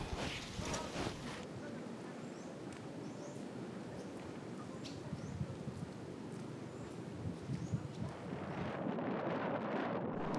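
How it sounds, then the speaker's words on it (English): Strong wind on an island buffets the microphone in a continuous roaring rush, with gusts swelling and easing throughout. "It really was quite windy there. You maybe can even hear it."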